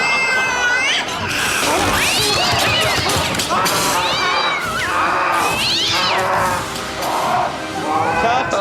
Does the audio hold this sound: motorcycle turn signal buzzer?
no